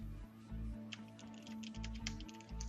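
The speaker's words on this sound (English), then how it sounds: "You can hear me typing, but you can see that nothing is entering that text field." Fingers typing on a computer keyboard: a quick, irregular run of light key clicks, fairly faint and close, over a steady low electrical hum.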